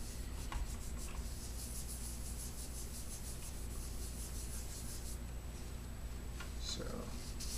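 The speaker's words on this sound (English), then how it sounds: "just kind of get rid of all that residue of thermal paste" Wiping thermal paste residue off an Arctic Cooling Freezer XTREME Rev.2 CPU cooler, a quiet steady rubbing scrub, close and continuous, with a few faint light taps.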